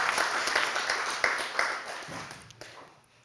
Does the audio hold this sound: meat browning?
no